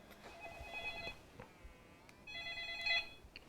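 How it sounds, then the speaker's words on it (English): A phone rings twice with an electronic trill, each burst lasting about a second, heard faint and slightly distant in a quiet room with no voices. "And of course my phone's gonna ring."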